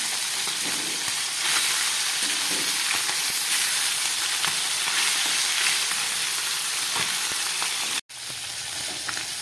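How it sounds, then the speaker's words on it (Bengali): Bele fish, a soft delicate fish, fries in hot oil with a loud, steady sizzle and crackle that stays close and constant, with a brief cut near the end. "এবার এই তেলের মধ্যেই আমি মাছগুলোকে ভেজে নিচ্ছি।"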